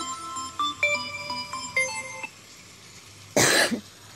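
A mobile phone rings loudly beside a pillow, a repeating electronic melody of bright tones for about two seconds, followed by a short harsh cough or throat-clearing burst.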